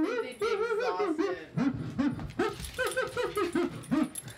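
Several dogs whimper and yip in quick, repeated high-pitched bursts, close and fairly loud, with overlapping whines and short yelps throughout.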